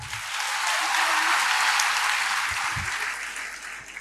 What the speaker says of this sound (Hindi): तालियां जरा जोर से बजाओ।